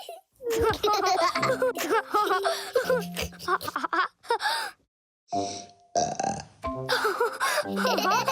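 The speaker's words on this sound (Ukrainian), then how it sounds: "Велика сливова відрижка" A cartoon hedgehog lets out a big burp after eating a huge plum, a voiced, gurgling belch mixed with playful chatter and giggles from animated characters, fairly loud and close.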